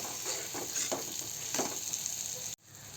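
Pieces of boiled egg stirred into hot masala in a pan, with a steady sizzle and soft scraping strokes of the spoon, ending in a brief quiet break before the frying resumes.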